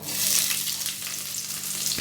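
A medium-sized chopped onion fries in a pan over tempered whole spices, a steady loud sizzle with a bright crackling hiss lasting throughout, no voices.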